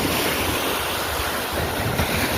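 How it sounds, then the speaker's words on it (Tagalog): Big ocean waves rolling and washing near a fishing boat at sea, a steady broadband roar of surf mixed with wind buffeting the microphone, continuous and fairly loud throughout. "Ang laking alon."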